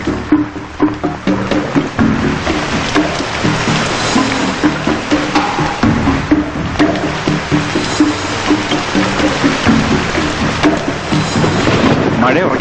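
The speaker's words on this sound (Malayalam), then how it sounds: "മഴ ഉറയ്ക്കുന്ന ലക്ഷണം." Heavy rain pours steadily with low, rolling thunder in an outdoor scene, the downpour loud and close and swelling in waves.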